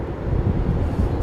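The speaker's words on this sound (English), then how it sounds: "Watch the props going to the reverse pitch." Aircraft propellers roar as they shift into reverse pitch on landing at London Heathrow Airport, a loud, steady, broadband rumble that fills the whole moment.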